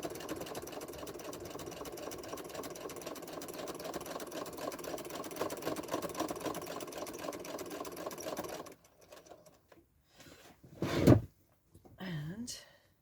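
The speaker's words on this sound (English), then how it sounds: "we are going to slowly sew along the seam line" A sewing machine slowly sews binding along a seam line, a steady close mechanical hum for about eight seconds, then stopping, followed by a few soft handling clunks and a brief voice.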